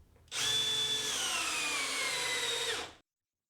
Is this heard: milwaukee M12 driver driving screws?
yes